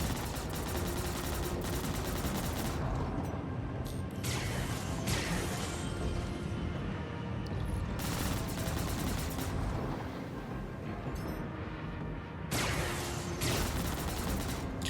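Ship weapons firing in the space game Star Citizen, dense rapid bursts of gunfire and impacts, loud and continuous for the whole stretch with a few short pauses in the volleys.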